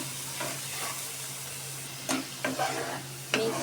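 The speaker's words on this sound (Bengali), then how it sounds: "ভালোভাবে মিক্স করে নেব।" Fish curry for pomfret (rupchanda) is stirred in a pan, a soft background sizzle broken by a few scraping stirs near the end, with no talking.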